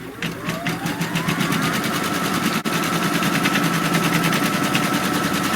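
A sewing machine stitches the leather placement line onto a butterfly cinch sack in a fast, even rattle of needle strokes, close and continuous with one brief hitch midway.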